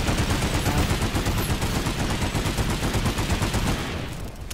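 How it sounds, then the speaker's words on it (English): Rapid, dense gunfire bursts from a video game weapon, loud and continuous with a sharp ending, standing alone without any talk. "Rocket launcher fired."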